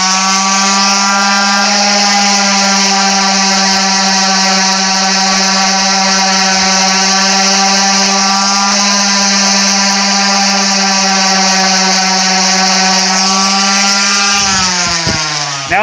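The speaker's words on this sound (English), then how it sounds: "all I did was random orbit sander and some 220 grit sandpaper." Random orbit sander with 220 grit sandpaper working foam armor, a steady high-pitched electric whine with dense harmonics, close and loud, running continuously and alone before dipping slightly at the very end.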